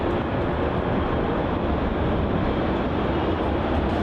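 A Qantas airliner on flight QF380 roars steadily as it rotates on takeoff at Melbourne Airport, a loud continuous broadband jet noise with no breaks and no talking.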